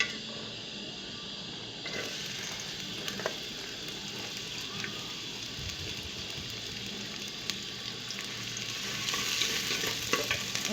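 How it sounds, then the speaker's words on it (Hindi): Onions frying in hot oil in a home kitchen while a fish curry is cooked: a steady, continuous sizzle with occasional stirring clatter and scrapes, close and moderately loud, with no talk. "तेल गर्म होने के बाद हम इसमें प्याज डालेंगे।"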